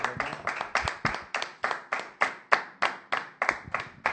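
Church congregation clapping to acclaim the Lord, steady rhythmic hand claps at about three per second, fairly close and alone with no talk over them.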